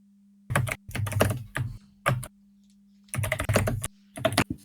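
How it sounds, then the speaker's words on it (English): Computer keyboard keys clicking in quick bursts of typing, close and clear, with short pauses between runs over a steady low hum. "If ever you hear the clicking of my keyboard"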